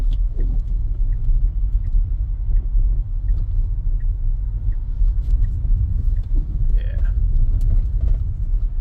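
Tesla car under Full Self-Driving on wet snow, a steady loud low rumble of road and tire noise inside the cabin throughout, with brief faint voices.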